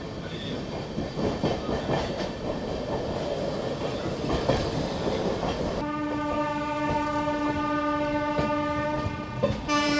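The Amrit Bharat Express pulls into Asansol station with a rumbling roll and clatter, then a long sustained horn blast sounds over the noise partway through.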